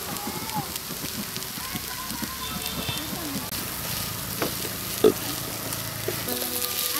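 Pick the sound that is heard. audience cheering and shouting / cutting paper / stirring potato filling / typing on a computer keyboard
stirring potato filling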